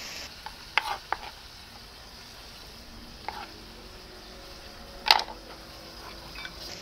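Carrots and onion stir-fried for a beef stir fry on Koh Samui in Thailand, a low steady sizzle broken by a few sharp utensil clicks and scrapes against the pan.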